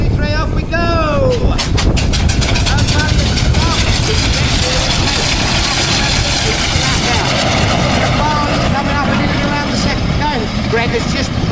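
Close, loud chuffing and rumbling of steam engines and steamrollers pulling away at the start of a race at a steam rally at Parham Park, with a continuous mechanical roar and bursts of whistling; people speak over it.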